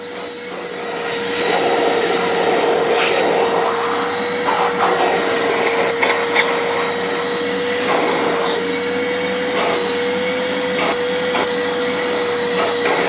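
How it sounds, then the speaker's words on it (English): A Hoover vacuum cleaner runs steadily inside a Rover 75 car interior, a loud continuous whine and rush that shifts slightly as the nozzle moves over surfaces, with no talking. "Obviously the next bit then is to just Hoover it up."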